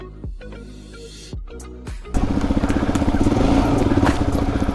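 A Suzuki DRZ400 trail motorcycle sputters through a few short revs and dies back. Then it catches and settles into a loud, steady, close thumping idle that continues to the end.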